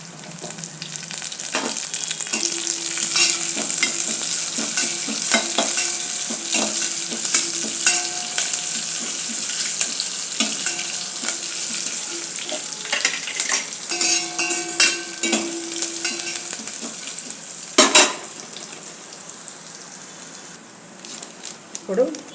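Dry red chillies and curry leaves frying in hot oil for a tomato rasam tempering: a continuous close sizzle with repeated metal spoon stirs and scrapes against the pan, and a voice speaking intermittently.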